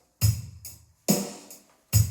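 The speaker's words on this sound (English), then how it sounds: "We got a rock and roll beat, real slow." A Beat Buddy drum machine plays a slow rock and roll beat, with three evenly spaced heavy kick-and-cymbal hits and lighter snare taps between them, close and clear.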